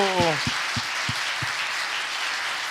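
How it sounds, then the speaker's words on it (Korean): A church congregation claps in a dense, steady wash that fills the whole clip, while a voice speaks briefly over the start. "큰 박수로"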